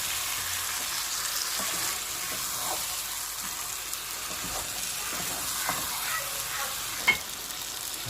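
Chicken pieces for bhuna sizzle and fry in a pan while being stirred, with steady crackling and scraping strokes and one sharper clink near the end, no talking.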